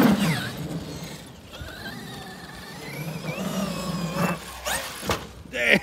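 A Traxxas XRT RC truck on sand paddle tires drives with a rising and falling electric motor whine, a steady near hum with surges as it accelerates, plus brief bursts of tire and terrain noise.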